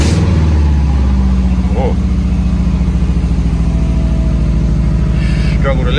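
A car engine cranks and catches, then settles into a loud, steady idle close by with a rhythmic low throb, while a person briefly exclaims over it.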